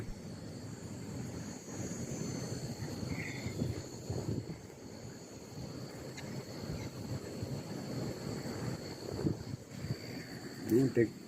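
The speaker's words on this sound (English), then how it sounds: "And the cicadas are even telling the story, and the crickets." Cicadas and crickets drone in a steady, high, layered chorus around a site of melted bricks, a continuous buzzing bed with a faint low rumble and occasional soft voices underneath.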